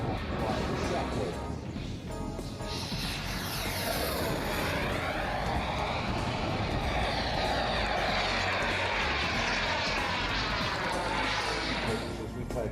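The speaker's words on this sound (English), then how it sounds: "David, gear down and locked, flaps deployed. A nice military brake to landing with the shockwave." A military jet comes in to land with gear down and flaps deployed, a loud, continuous roar that shifts in pitch as it sweeps past close by.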